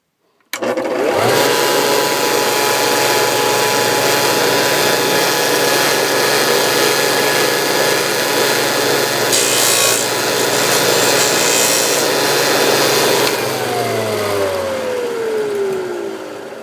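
Steady abrasive rasping of a mandolin bridge being sanded, a continuous close, loud scraping of wood against sandpaper with even rhythm, slowing near the end.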